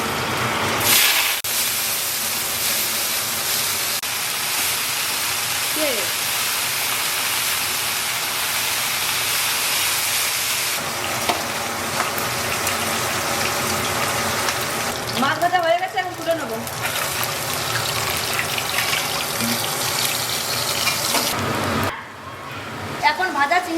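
Cumin seeds and dried red chillies frying in oil left over from frying fish, producing a loud, continuous sizzle and spitting hiss with occasional clatters, as a voice talks over it.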